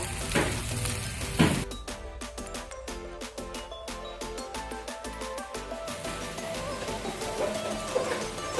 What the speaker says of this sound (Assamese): তেলটো গৰম হোৱাৰ তাত মই সৰিয়হৰ চাম্বাৰ দিম তেলটো কেঁচা জলকীয়া এতিয়া দিছোঁ শুকান জলকীয়া